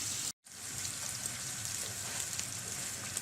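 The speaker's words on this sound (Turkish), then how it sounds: "şu şekilde çevirerek tereyağımın erimesini sağlıyorum" Butter melting in a pan on the stove with a steady, close crackling sizzle that runs almost without a break, dropping out only for a moment near the start; nobody speaks.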